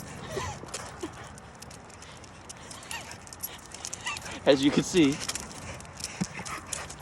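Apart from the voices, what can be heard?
dog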